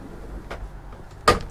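Drawer in the kitchen of a Hymer B Class ModernComfort BMC I 600 BlackLine motorhome opening and shutting, a soft slide followed by a sharper close, near and alone.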